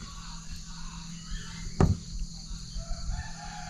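A rooster crows faintly on a small farm where chickens are raised, a short call rising over steady background hum with a sharp knock partway through.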